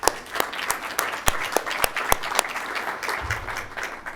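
A small audience claps steadily for a few seconds, sharp individual hand claps standing out in a close, lively burst of applause.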